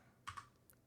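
A computer keyboard pressed for a shortcut while coding: two quick clicks close together, then a third lighter tap a moment later, close by in an otherwise quiet room.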